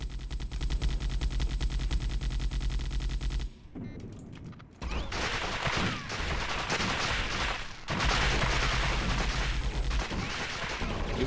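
Rapid automatic gunfire in the Warhammer 40K: Fire Warrior video game rattles loud and sustained at a dropship's turbines, broken by a brief pause and explosive bursts.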